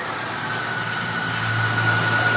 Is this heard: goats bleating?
no